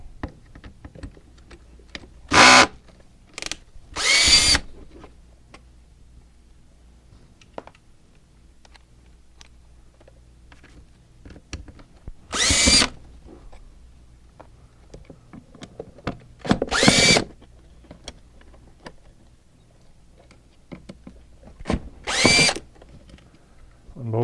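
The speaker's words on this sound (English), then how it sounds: "we take our gun and we're going to remove the screws here" Cordless screw gun backing screws out of a DFM45W wireless module during a battery replacement: several short, loud whirring bursts spread apart by quiet pauses, close by, with no talking.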